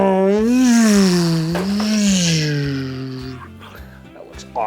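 A toy car gives off a loud engine-rev sound with a pitch that swoops up and down, wavering for several seconds before fading.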